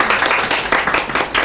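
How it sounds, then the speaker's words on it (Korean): An audience at a student conference session on climate action applauds a presenter, giving a brief burst of dense, loud clapping heard up close with no speech. "그럼 저희 주수정 학생에게 박수 부탁드립니다."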